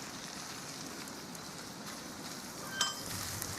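Food sizzles in a hot pan as a steady, faint, even hiss throughout, with a single small pop near the end and no voices.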